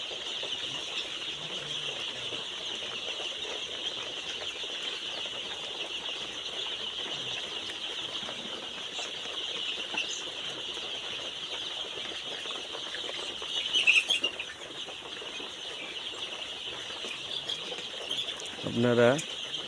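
Eight-day-old chicks in a brooder keep up a steady, dense chorus of high chirping throughout, with a louder cluster of peeps near the end.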